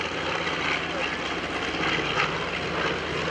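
A B-25 Mitchell bomber's propeller engines hold a loud, steady, roaring drone at the 2011 AirPower Over Hampton Roads air show, with a voice talking over the noise.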